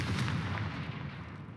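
Confringo fire spell cast in the Hogwarts Legacy game, a single deep booming blast at the start that rolls away into a fading rumble, fairly quiet overall.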